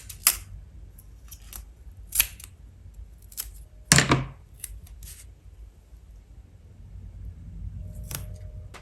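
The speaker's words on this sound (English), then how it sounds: "I'm just going to cut my pieces and split them in two." Scissors cutting paper pieces for a handmade double easel card: several sharp, separate snips spread out with pauses between them and one longer, louder cut near the middle, close up in a quiet room.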